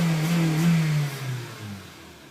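2012 Honda Civic EX-L engine revving while driving: a short rise in engine pitch that then falls away, heard from inside the car at moderate loudness.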